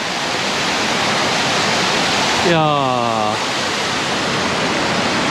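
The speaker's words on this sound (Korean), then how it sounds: "이쪽 편에도 작은 폭포가 하나 있네" Loud, steady rushing of Nojeokbong Falls in Ansan, Gyeonggi-do, South Korea fills the scene, with a man's brief exclamation rising over the roar midway.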